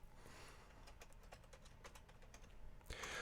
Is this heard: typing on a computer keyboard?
yes